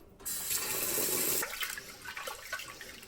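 Eight hundred grams of sweet rice being washed in water for makgeolli: a rush of running water, then softer irregular swishing and splashing nearby.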